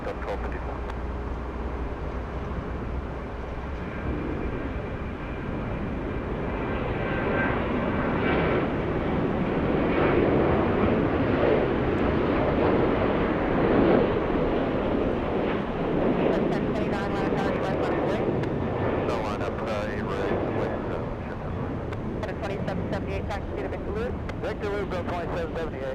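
A jet airliner rolling for takeoff at Atlanta Hartsfield-Jackson airport, a steady loud engine roar that swells and holds for a long stretch, with voices talking over it.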